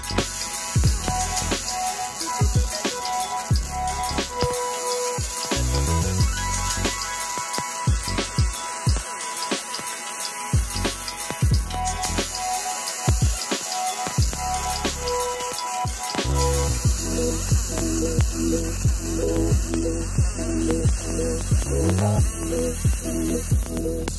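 A fiber laser engraves electro-plated pot metal with a continuous electrical buzz and hum, broken by rapid clicking and tonal pulsing patterns as the beam scans back and forth.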